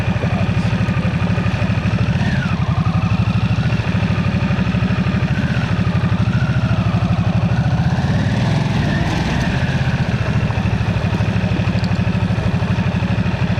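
Harley-Davidson Nightster 975 with the Revolution Max engine runs steadily in first gear at an indoor show area, a continuous close engine drone with clattering mechanical texture and no clear revs, holding constant loudness throughout.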